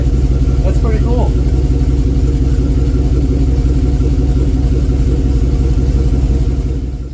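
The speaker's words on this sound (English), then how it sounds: "The exhaust is wrapped, and holy crap, that sounds freaking awesome." Chevrolet Silverado engine fitted with long tube headers and an AFE Rebel exhaust, running with a loud, steady, throaty rumble close by for the whole stretch, pulsing evenly as it idles.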